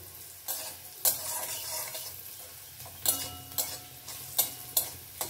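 Garlic frying in hot oil while being stirred: a soft ongoing sizzle broken by sharp, spaced scrapes and clacks of a utensil against the pan, close and unaccompanied by speech.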